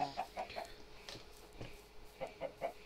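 Chickens cluck in Minecraft, a faint series of short, evenly spaced clucks in two quick runs with a quieter gap between.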